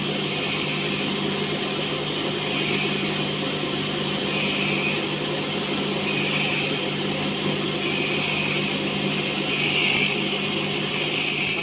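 A steady whine from a bench grinder's stone wheel sharpening a drill bit, with a rasping grind that swells and fades about every one and a half seconds as the bit is pressed and lifted.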